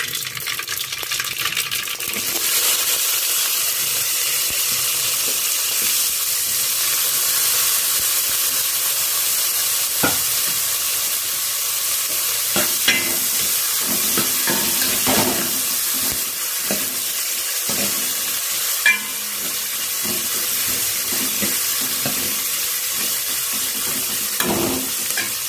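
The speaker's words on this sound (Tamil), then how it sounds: "வெங்காயம் நல்லா வதங்கணும்" Onions sizzling in a pan while being stirred, a constant bright hiss of frying with scattered scraping and clinking from a utensil, close and fairly loud, no talking.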